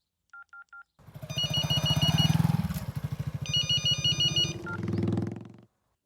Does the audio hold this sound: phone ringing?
yes